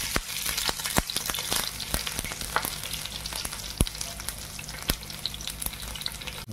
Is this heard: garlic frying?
yes